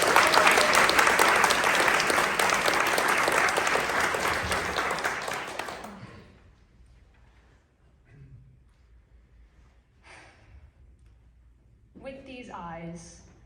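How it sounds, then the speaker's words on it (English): An audience at a literary awards ceremony applauds a young poet with loud, dense clapping for about six seconds, then quiet room tone before a voice starts speaking. "Clap it up for Alex."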